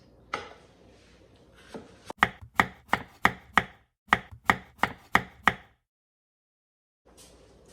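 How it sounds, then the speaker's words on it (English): A kitchen knife chops zucchini on a board in about a dozen crisp, evenly paced strikes, near and distinct, with a short pause partway through and then quiet. "I'm going to chop up some zucchini for our pizzas tonight"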